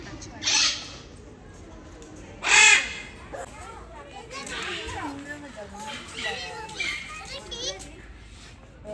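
Large birds call at the National Zoo in Dhaka, with two sharp, loud caws standing out near the start, while children chatter and play close by.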